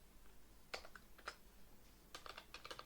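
A computer keyboard clicks in short, quiet bursts as a filename is typed, with a few isolated keystrokes first and then a quicker cluster of taps, all faint and without speech.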